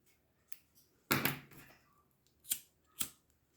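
Scissors snip through a crochet chain in needle lace work, a few sharp close cuts with one longer rasping snip, alone in a quiet room.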